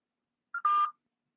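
Two short electronic DTMF dialing tones from a phone during a call attempt, the second one longer, clean and close with silence around them.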